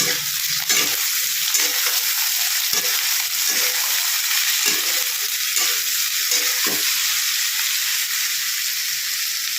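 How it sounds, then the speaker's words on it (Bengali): Potatoes and pointed gourd frying in a pan hiss with a continuous bright sizzle, broken by repeated scraping and stirring strokes of a spatula at close range. "আলু পটল যেগুলো কেটে ধুয়ে রেখেছিলাম, দিয়ে দিলাম। এবার এটা আমি একটু দিয়ে নাড়িয়ে দিলাম।"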